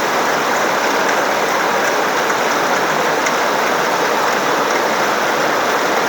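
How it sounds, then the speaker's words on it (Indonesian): Heavy rain pours down in front of a house, a loud, dense and unbroken hiss of drops hitting surfaces that holds steady throughout with no other sounds. "hujan turun"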